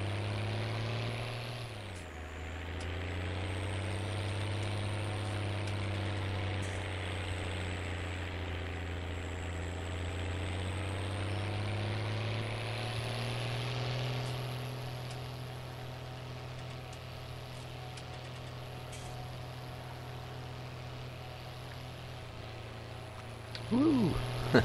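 Tractor engine in Farming Simulator 19 drones steadily at a low, heavy pitch throughout, revving slightly mid-way and settling back, with a brief clatter near the end; someone talks over it.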